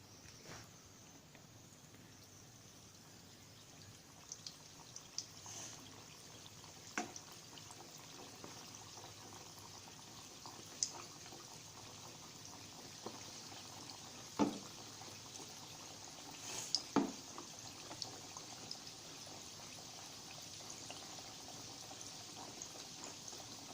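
Khajoori, a Konkani sweet, frying in hot oil over medium heat, a faint steady sizzle and hiss with occasional small pops and clinks of handling.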